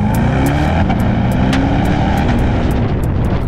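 A Corvette C8 Stingray pulls hard once the engine's break-in rev limit is lifted, driving on a European road trip. A loud, sustained engine drone runs throughout, with faint regular ticking above it.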